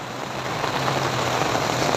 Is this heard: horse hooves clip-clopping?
no